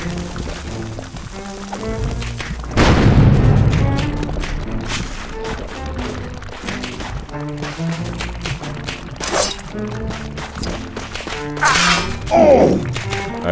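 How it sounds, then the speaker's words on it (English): Bombs thrown and exploding in the Lego Pirates of the Caribbean video game, with a loud burst of blasts and crashing debris around three seconds in, followed by further bangs and smashing sounds over game music. "We gotta throw a bomb right here."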